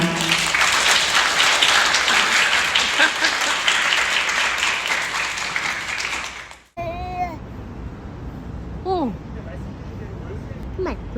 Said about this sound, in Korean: 아버님을 큰 박수로 모시겠습니다